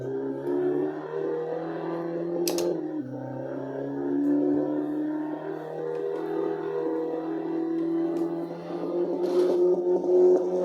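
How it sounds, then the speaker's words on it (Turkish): A continuous engine drone from a racing video game, shifting pitch as it revs up and down, loud and steady, like a car racing, with no voices. "Sadece araba sesini dinlesek yeter."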